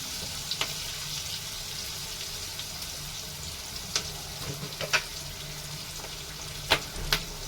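Onion and green chilli frying in a pan with a little salt, giving a steady low sizzle with a few sharp crackles and pops scattered through, close and alone with no talking.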